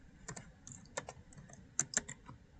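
Quick clicks of a computer keyboard while typing a folder name into an Excel name manager, a short uneven run of soft, close keystrokes with a couple of sharper taps, over a faint background hum.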